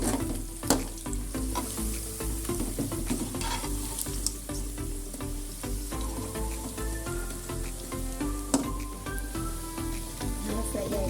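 Cauliflower (gobi) pieces frying in hot oil for restaurant-style Gobi Manchurian, a steady crackling sizzle with scattered sharp pops, moderately close and continuous.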